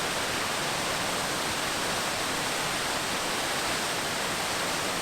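A series of cascading waterfalls near Roughlock Falls in the Black Hills, heard as a steady, dense rush of falling water that stays constant and unbroken throughout.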